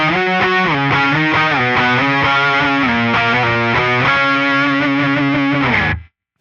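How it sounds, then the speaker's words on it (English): A distorted electric guitar plays two notes together that slide up and down the neck while the other strings stay muted, loud and sustained, cutting off cleanly at the end. "you play those 2 notes, you mute all the other strings, and you just start sliding around"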